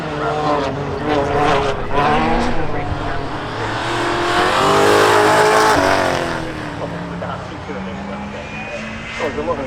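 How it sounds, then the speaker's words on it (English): A rally car leaves the pit lane onto the Knockhill circuit, its engine rising to a loud, revving roar that swells and fades as it pulls away, with a commentator talking over it. "Around the exit of the lane, we've got the first car being released."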